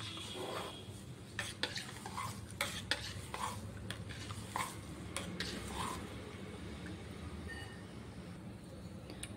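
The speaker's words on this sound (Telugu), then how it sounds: "తర్వాత వీటన్నింటినీ బాగా మిక్స్ చేసుకోవాలి. ఈ బెల్లం అంతా బాగా కరిగిపోవాలి." A spoon stirs a jaggery mixture for panakam in a vessel, making repeated scraping strokes and light clinks in an uneven rhythm over a steady low background.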